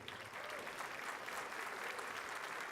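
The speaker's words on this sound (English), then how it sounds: "that's the only round of applause I'm going to allow" A round of applause from an audience at a State of the City address, steady dense clapping held at an even level throughout, moderately distant and without pause.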